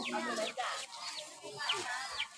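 Chicken clucking in a series of bright, squawky calls close by, with a rural backdrop and faint voices mixed underneath.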